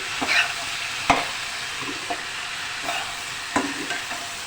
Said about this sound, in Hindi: हरा धनिया डाल के मैं फ्राई करूँगी।